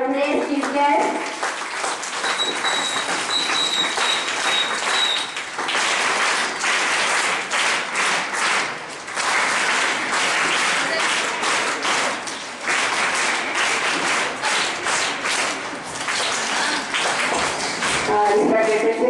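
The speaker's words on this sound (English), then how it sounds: "So big round of applause for our today's chief guest" Audience applause fills a school hall during a Swami Vivekananda birth anniversary celebration, a steady, dense wash of clapping lasting throughout, with children's voices and some talk mixed in.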